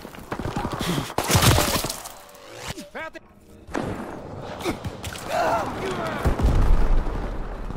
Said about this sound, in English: Low altitude bomber inbound. Dropping incendiary.